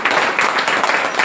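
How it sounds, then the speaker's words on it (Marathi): Audience applause for a volunteer at a village religious gathering during a week-long Harinam Saptah in Mirgali: dense, steady clapping from a crowd, close and loud, without a break for the short stretch. "त्यांच्यासाठी एक वेळेस टाळ्या झाल्या पाहिजे."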